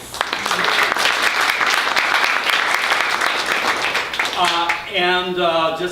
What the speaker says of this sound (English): Applause for Malvern Books